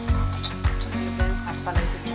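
Sakinalu snacks fry in hot oil, giving a close, steady sizzle with rhythmic bubbling pulses and soft stirring, moderately quiet, with a voice faintly in the background.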